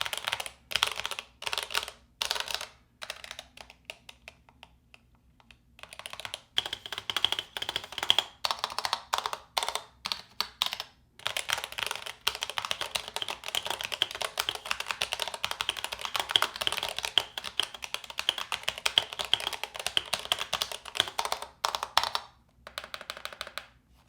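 Rapid, steady typing on a Razer Huntsman V3 Pro TKL mechanical keyboard, crisp clicky keystrokes with brief pauses, close up and alone, no voices.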